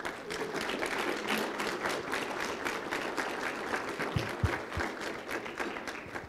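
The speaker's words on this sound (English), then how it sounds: "I'd like to take a moment now to give them a round of applause and our thanks." A graduation audience at the Marshfield Area Chamber of Commerce's Leadership Marshfield ceremony applauds steadily, dense overlapping clapping filling the room at even strength throughout with no speech.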